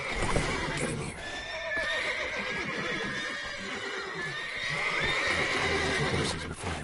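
Horses in The Witcher 3: Wild Hunt neigh and whinny repeatedly against a busy background, with faint hoof clatter mixed in; the sounds are close and fairly loud.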